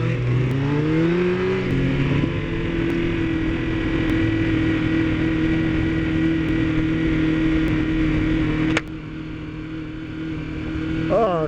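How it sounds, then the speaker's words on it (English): Engine drone from a car stuck in road traffic, a steady low hum with rising pitch early on as it accelerates, then a sudden drop near the end as the interior sound changes. "Oh, traffic here too."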